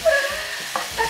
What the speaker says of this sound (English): The sizzle, I forgot to mention the sizzle.